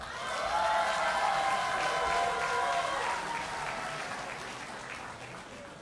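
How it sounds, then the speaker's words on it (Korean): A crowd at a Democratic Party leadership candidates' policy speech event applauds the candidates with warm, sustained clapping from many hands that swells early and slowly tapers, with a voice over it. "민주당의 비전을 제시하신 모든 후보님들께서 공평하고 뜨거운 격려와 박수를 보내주시기 바랍니다."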